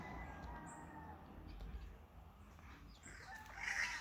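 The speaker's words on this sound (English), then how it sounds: "that's a chicken there looking for food for his little one and himself and herself" A chicken forages for food for its young, giving faint clucks and a brief louder call near the end, set against steady outdoor background noise.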